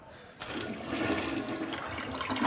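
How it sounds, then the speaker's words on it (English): An old-fashioned toilet flushes with a sudden rush of water that builds into a steady, gushing roar, close and fairly loud, without talk. "That's how you flush a toilet back then"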